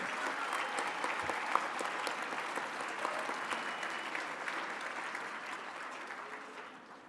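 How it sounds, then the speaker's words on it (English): A crowd at a Down syndrome foundation awards gala applauds the celebrity supporters, with dense, sustained clapping that holds steady for several seconds before fading out at the end. "Let's give the celebrities a round of applause"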